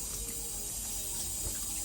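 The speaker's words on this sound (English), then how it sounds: "Put like 4 cups of water in there." Water pours steadily into a cooking pot for jollof rice, a close, continuous rushing splash without pauses.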